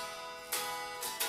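Thin, faint strums from an unplugged electric guitar, two or three quick bright strokes close by.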